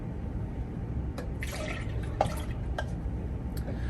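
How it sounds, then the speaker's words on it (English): Two cups of milk are poured into a butter-and-flour roux in a pot, giving soft splashing and bubbling over a steady background hiss. "Then you're gonna add in 2 cups of milk"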